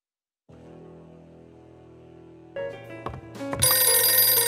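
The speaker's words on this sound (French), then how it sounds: "Deux sonneries de téléphone." A telephone rings in the video game Blacksad: Under the Skin. A steady tonal ring builds and layers with swelling music until it ends in a loud, bright burst.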